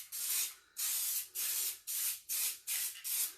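Six bursts of aerosol spray paint hiss onto furniture hardware in a steady rhythm, each a sustained close spray separated by brief pauses.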